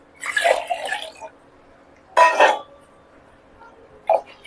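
Water is poured from a vessel into a cooking pot while preparing broken-rice upma with split moong dal, coming as two splashy pours followed by a brief third splash, close by and otherwise quiet.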